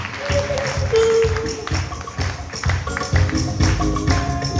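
Church congregation applauding, a steady wash of many hands clapping at close range over a few seconds, with voices and other sounds mixed underneath.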